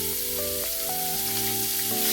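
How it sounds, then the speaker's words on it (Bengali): Chopped onions fry in hot oil in a pan, after fish has been fried in it, with a steady, dense sizzle that runs unbroken throughout, and a faint tone hums underneath. "পেঁয়াজগুলোকে লাল লাল করে ভেজে নেব।"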